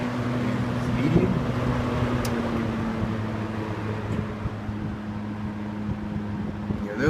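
A Wards Signature three-speed box fan made by Hunter runs at medium speed, giving a steady close motor hum with a constant low drone and airy whoosh.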